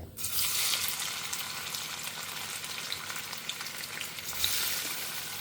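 Paneer cubes frying in hot oil in a pan, a steady, dense sizzle with crackling spatter that starts sharply and holds loud throughout, with no voices.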